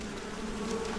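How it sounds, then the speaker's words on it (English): Steady buzzing of a swarm of bees in Metal Gear Solid 3 Subsistence, a continuous droning hum that fills the whole moment at an even level, with no one talking over it. "Bees!"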